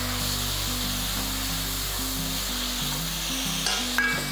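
Finely chopped tomatoes sizzle in a pan with onions for a Madurai-style fish kuzhambu, a close, steady frying hiss over low tonal notes, ending with a brief clatter of stirring.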